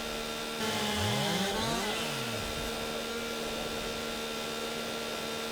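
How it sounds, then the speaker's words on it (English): Chainsaw cutting wood in Farming Simulator 22, a steady motor whine with pitch sweeping up and down as the blade bites, held at moderate level throughout. "Maybe if I angle the chainsaw a little bit."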